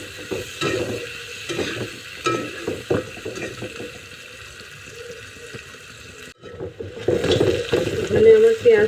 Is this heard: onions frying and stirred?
yes